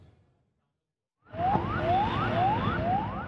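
An ambulance siren wails at a ferry terminal, starting abruptly after a moment of near silence and sweeping up repeatedly in a steady, loud, close rising whoop.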